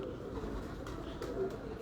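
Pigeons kept by a breeder in Multan coo softly in the background, a faint low murmur of calls with a few brief flutters over quiet room noise.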